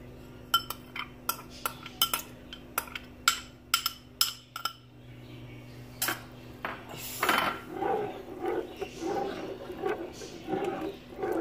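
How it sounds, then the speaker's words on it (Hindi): A spoon clinks repeatedly against a pot while rice and bottle gourd are stirred for kheer, sharp irregular knocks at first, then softer wet scraping and bubbling, with someone talking over it. "पहले मैं इसको हिलाती जाऊंगी ताकि ये चावल आपस में जुड़े ना"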